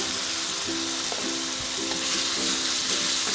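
Spice paste for semur jengkol, with ground coriander and pepper, frying in a pan: a steady, dense sizzle with gentle stirring strokes, close and alone.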